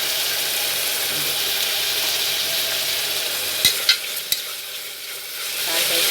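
Chicken biryani masala sizzles steadily in a hot pan, with a few sharp clinks of a stirring spoon against the metal partway through.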